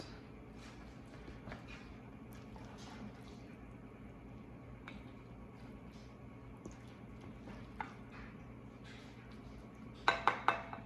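Scooping cooked pizza casserole out of a pot: a steady low kitchen hum runs throughout, with a few light clinks of utensil on cookware and a quick burst of three sharp metallic scrapes and knocks near the end.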